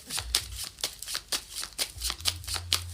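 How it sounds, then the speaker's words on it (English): Tarot cards being riffled and shuffled in repeated quick bursts, a crisp papery flutter recurring every few tenths of a second, close and fairly quiet over a low background hum. "I'm shuffling my cards"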